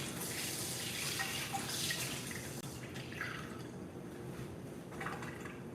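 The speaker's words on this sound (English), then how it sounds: "Let me wash this hand." A hand is washed under a running tap, giving a steady, close splashing rush of water that continues without a break.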